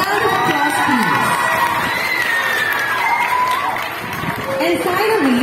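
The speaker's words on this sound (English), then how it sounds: "A round of applause, please." A school talent program crowd greets a former grade 6 teacher with cheering and applause, a loud sustained wash of clapping, shouting children and chatter that stays steady throughout.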